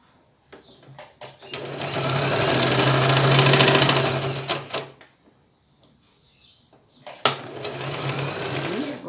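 Sewing machine stitching a hat lining: two rapid mechanical runs of stitching, close and clear, separated by a pause with light handling clicks.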